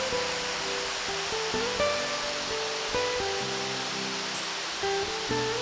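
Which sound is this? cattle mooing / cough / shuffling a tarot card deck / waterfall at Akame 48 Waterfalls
waterfall at Akame 48 Waterfalls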